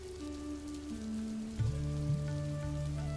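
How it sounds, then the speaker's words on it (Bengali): Steady monsoon rain falls on a morning in an animated story, a soft continuous patter with sustained tonal hums layered over it and no voices. "মা, বৃষ্টিটা দেখছিলাম, কালকে রাত থেকে একটুও থামেনি"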